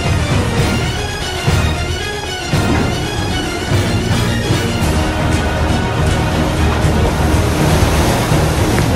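Strong wind roars continuously against the microphone, a dense broadband rush with surf-like surges and no voices.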